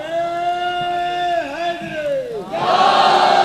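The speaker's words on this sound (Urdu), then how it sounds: "دیکھیں بزرگ نعرے لگا رہے ہیں، نوجوان کھڑے ہوئے ہیں، سارے مل کے نعرے لگائیں میرے ساتھ" A religious gathering celebrating Imam Husain, where a leading voice calls out a drawn-out, wavering slogan and a large crowd then answers together in a loud, massed chant.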